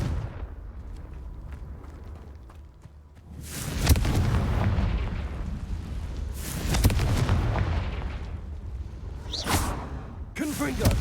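Confringo blasting spells fired in the Hogwarts Legacy game burst out as several loud booming explosions with whooshing tails, spaced a few seconds apart over a rumbling game background, with a voice calling out between them.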